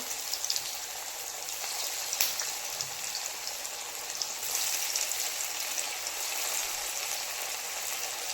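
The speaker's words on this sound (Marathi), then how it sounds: "आता तेलामध्ये वडी तळून घेऊया आणि छान अशी क्रिस्पी होईपर्यंत अशी भाजून घ्यायची आहे" Kothimbir vadi, Marathi coriander fritters, frying in hot oil, giving a steady dense sizzle with crackling pops that grows slightly louder midway, with no talking.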